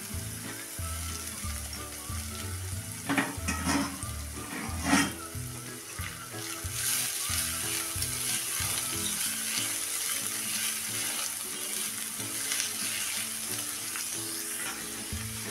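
Chopped onions sizzle and crackle loudly in hot oil with curry leaves for a tempering. A few stirring scrapes are heard early on, then a steady frying hiss continues up close.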